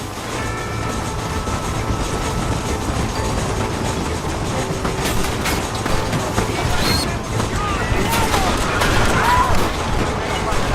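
Gunfire in a Red Dead Redemption shootout, with rapid shots blended into a dense, loud battle din and overlapped by shouting voices.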